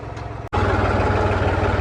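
A tractor pulling a cultivator through a flooded paddy field runs steadily at low, throbbing revs, close by. A brief dropout breaks the sound before the engine returns louder and unbroken.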